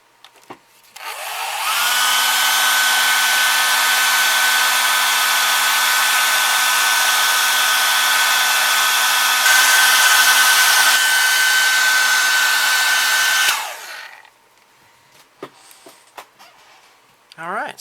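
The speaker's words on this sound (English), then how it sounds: "Okay, I got my wife's hairdryer here." A household hairdryer blowing steadily on a plastic model kit of a Star Wars Rebel Transport, a loud, close, constant whirring roar that holds for about twelve seconds, then cuts off, followed by faint handling noises.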